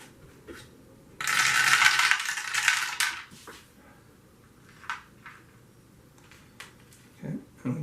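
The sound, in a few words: dice being rolled for a golf board game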